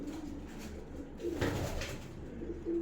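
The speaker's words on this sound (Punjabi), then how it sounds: "ਦੇਖੋ ਇੱਧਰ ਵੀ ਉੱਡਣ ਵਾਲੇ ਕੂਤਰ ਆਪਣੇ" Flying pigeons kept by a fancier coo in low, throaty, repeated phrases that run continuously at close range.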